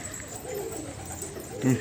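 A flock of about forty domestic pigeons coos softly and steadily, a low rounded murmur that swells briefly near the end over faint background hiss.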